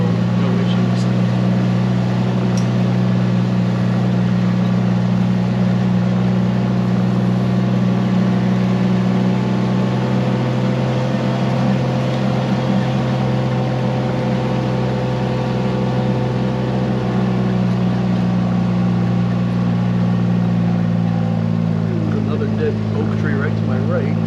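A vehicle engine labours steadily up a small dry hill on a sawmill property, a loud continuous drone with low rumbling tones close by, holding almost unchanged throughout.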